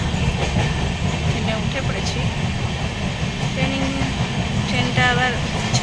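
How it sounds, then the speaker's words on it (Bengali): Steady rumble and clatter of a moving train fills the clip, with people talking over it and faint squeals of the carriage. "আমরা এখন উঠলাম ট্রেনে"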